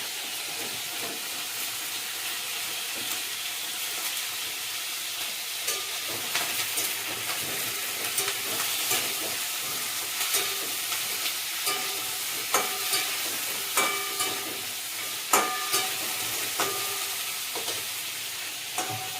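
Steady oil sizzle from frying fish, a broad crackling hiss with frequent sharper pops and spits growing louder toward the end; no voices.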